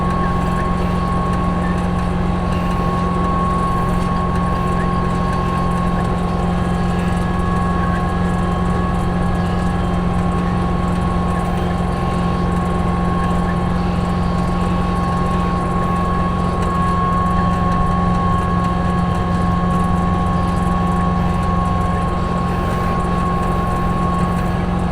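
A White 4-210 tractor pulling a chisel plow through a field, a loud, steady engine drone with a constant low hum and mechanical whine throughout, heard alone.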